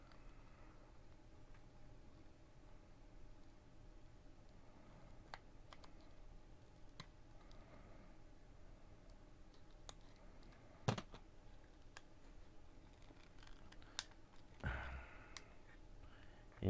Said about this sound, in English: you can kind of hear there's tabs in it that are clicking.